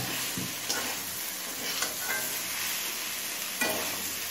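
Fried cauliflower is tipped into a pan of potato masala frying for a shol fish dish, making a dense continuous close sizzle with a few soft stirring knocks and scrapes and no voices.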